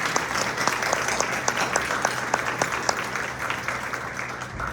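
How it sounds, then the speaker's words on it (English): An audience gives an a cappella group, Nothing But Treble, a round of applause at an International Women's Day event: dense, steady clapping filling the room with no pauses, fairly close. "Let's give them one more round of applause."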